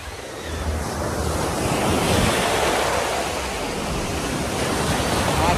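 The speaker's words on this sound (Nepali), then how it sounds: "समुद्रको छालमा चाहिँ रमाइलो गर्दै गाइस" Sea waves rolling in at Patong Beach in Phuket, Thailand: a loud, continuous roar of surf that swells and eases slightly, mixed with gusty wind buffeting the microphone.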